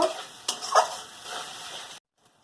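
Spice paste with tomato and ground-spice water sautés in a pan, a steady close sizzle with a couple of sharp stirring scrapes, then cutting off abruptly into silence.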